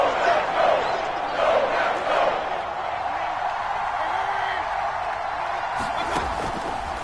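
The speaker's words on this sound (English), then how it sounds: "the crowd getting into it as we come up on a big 3rd down" Stadium crowd noise in a console football video game, a steady roaring mass of fans building ahead of a big third down, heard under a play-by-play commentator's voice.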